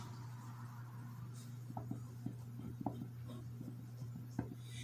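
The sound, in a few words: writing a label on tape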